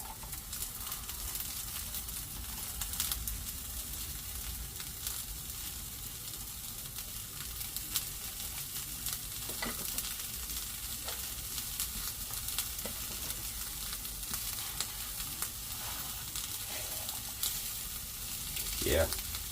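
Onions frying in a hot cast iron skillet alongside bologna, a steady broadband sizzle running the whole time with a few brief clinks of stirring near the end, close and fairly loud.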